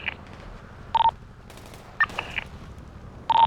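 Video game gunfire: short bursts of rapid shots come in spaced clusters over a steady low background rumble, with no talking.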